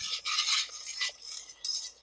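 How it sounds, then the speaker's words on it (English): Light scraping and clinking of a spoon stirring a honey-sweetened sauce in a pot, a few soft strokes repeating over two seconds, close and fairly quiet with no talking. "I'm going to give it a little stir."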